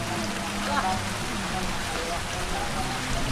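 Heavy rain pours outdoors in a steady, dense hiss that holds for the whole stretch, loud and close, with faint voices mixed in underneath.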